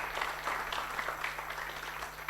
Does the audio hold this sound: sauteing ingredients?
no